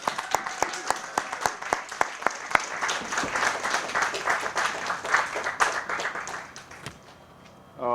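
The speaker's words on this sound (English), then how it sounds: "please join me in giving a big round of applause to Dave Peacock" Applause from an audience at an Urban League of Metropolitan St. Louis Martin Luther King Jr. food distribution event greets Dave Peacock, starting with sharp individual claps and swelling into a steady, dense round before fading out near the end.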